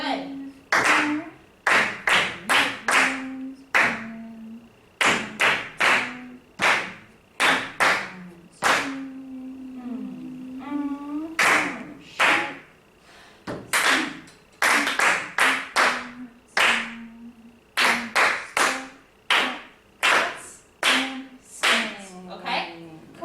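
Rhythmic hand clapping in a counting exercise, loud sharp claps close by in steady groups with brief pauses, alternating with a voice counting aloud between the groups.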